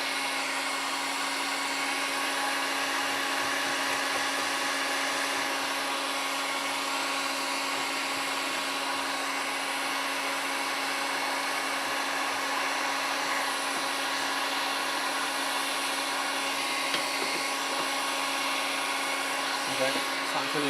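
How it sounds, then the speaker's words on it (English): Heat gun heating a stuck joint on a hundred-year-old Norwegian wooden window frame, a steady loud blowing whine held without a break, close up, with a faint voice underneath. "So I'm going to just heat that up a little bit."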